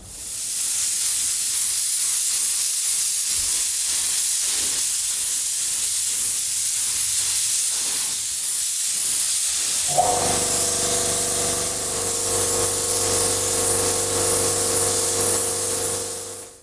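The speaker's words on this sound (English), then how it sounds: "then we're going to get the spray gun out" Compressed-air spray gun painting bus chassis parts for a 70-year-old London double-decker bus, a steady loud hiss with short bursts at first, then a continuous spray over a low compressor hum in a workshop.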